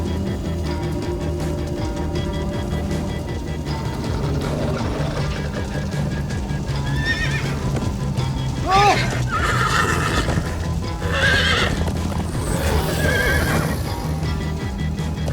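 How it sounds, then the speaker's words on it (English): Horses in the video game Minecraft: Story Mode whinny loudly several times over steady galloping hoofbeats, with a low mechanical hum beneath and voices briefly in the background. "Slow down, horse!"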